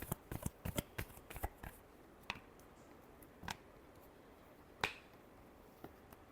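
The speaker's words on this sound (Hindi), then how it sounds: "Last shuffle." Tarot cards are shuffled by hand in a quiet room, a cluster of quick sharp riffling snaps followed by a few isolated clicks spaced out afterward.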